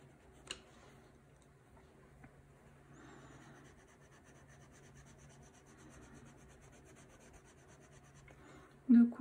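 Bic Intensity marker colouring on paper, a faint, steady soft rubbing and scratching of the felt tip laid down in strokes, with a few small taps and a louder knock at the end.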